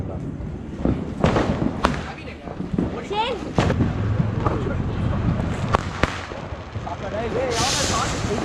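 Country firecrackers (naatu vedi) burst during a Diwali night celebration, with several sharp bangs scattered through the clip and a crackling burst near the end, heard over steady background chatter.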